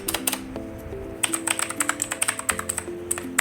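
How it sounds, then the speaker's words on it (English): Clicky keystrokes from a Philips SPK8614 mechanical gaming keyboard, a burst of quick taps then a steadier run of typing, close and fairly quiet, with no talking. "So let's try to type something. This is what it sounds like."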